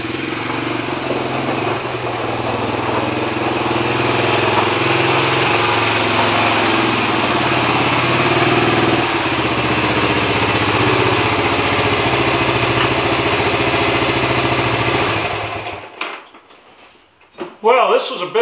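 Old Honda ATC three-wheeler engine running steadily and loudly up close for about fifteen seconds, a continuous buzzing drone that then cuts out, leaving a few clattering handling noises at the end.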